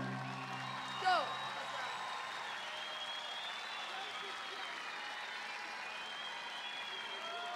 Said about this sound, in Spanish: Un aplauso gigante.